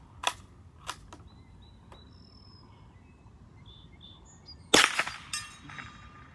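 .22 LR shots from a Ruger Precision Rifle fired outdoors crack sharply, three light reports early and one louder shot near the end, with birds chirping faintly between.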